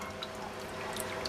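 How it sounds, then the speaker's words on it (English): A small water feature trickles and drips softly and steadily in a plant room, a faint, gentle flow heard alone with no talking. "Still got a little waterfall."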